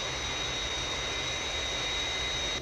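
The Fireflash jet airliner of Thunderbirds roars steadily on final approach, a loud sustained engine whine with a high-pitched tonal edge, constant and unbroken until it cuts off abruptly.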